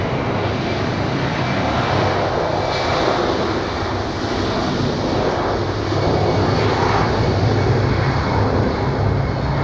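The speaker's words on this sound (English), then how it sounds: "runway 28, takeoff for United to Newark on runway 28" A United airliner roars steadily down Zurich Airport's runway 28 on its takeoff roll to Newark, a loud, continuous jet engine rumble with broadband hiss that holds and swells slightly without pause.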